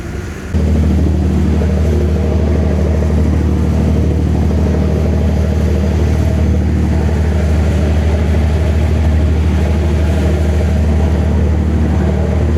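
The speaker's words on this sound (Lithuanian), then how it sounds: "Labai garsiai laivas dirba, neina nufilmuoti normaliai." A loud, steady engine drones continuously at close range, a deep rumbling hum that starts abruptly and holds without pause.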